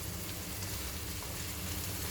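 Vegetables for tomato chutney fry over raised stove heat, giving a dense, even crackling sizzle throughout at close range with no voices.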